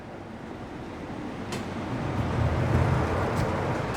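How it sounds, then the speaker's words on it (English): A train rolls in toward a station platform in the Lake District, a low rumble growing louder over a few seconds with faint clicks of wheels on rail joints, at moderate distance and with no talking. "Train approaching platform 3 will form the 925 West Coast"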